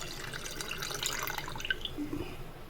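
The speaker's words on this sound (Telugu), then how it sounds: "ఈ పిండిలో మనం తీసి పెట్టుకున్న రెండు గ్లాసుల నీళ్లు దీంట్లో కలిపేసుకుందామండి" Two glasses of water are poured into rice flour batter made from ration rice for vadiyalu, giving a faint, continuous trickle and splash over a steady background hiss.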